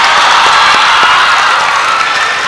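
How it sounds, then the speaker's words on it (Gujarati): A large school audience at a motivational talk claps loudly for the boys, with steady applause mixed with cheering and a few shouts. "બોયઝ માટે એક જોરદાર તાળીઓ પાડે છે."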